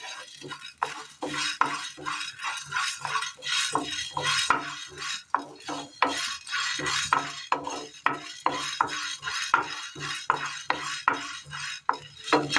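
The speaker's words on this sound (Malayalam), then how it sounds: "ഈ മുതിര ഒന്ന് വറുത്തെടുക്കണം" Dry horse gram grains rattle and scrape in a pan as a spoon stirs them in quick repeated strokes while dry-roasting, close and fairly quiet, without speech.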